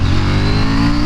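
A KTM Duke 890R motorcycle engine revs hard and steadily on a twisty road, a loud, close, continuous mid-pitched roar with strong harmonic drone and no pauses.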